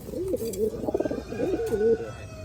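Gorra pigeons coo at close range on a pigeon farm, a run of soft, rolling throaty calls repeating in two bursts with slight background noise.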